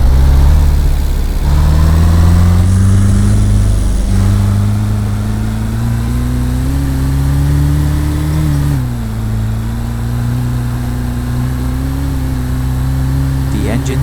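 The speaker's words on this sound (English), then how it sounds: "The engine sound is very realistic and smooth" A car engine in a Roblox driving game hums and drones steadily, rising slowly in pitch as it accelerates, then dipping briefly before holding steady, loud and close.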